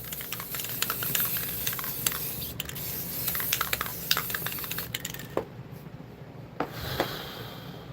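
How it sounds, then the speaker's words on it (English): A nearly empty can of spray paint sputters outdoors, giving a close, uneven hiss broken by rapid crackling spits and clicks, then a quieter stretch with a few sharp taps. "This can of spray paint is dead, so that's part of my problem right now."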